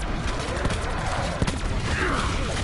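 Gunfire fills a Call of Duty Blackout video game match as a dense, loud fusillade of rapid shots and bursts, with a brief voice cutting in partway.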